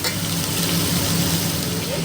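Mutton pieces with papaya and carrot fry in a cooking pot, giving a dense, steady sizzle that holds evenly and fairly loud throughout.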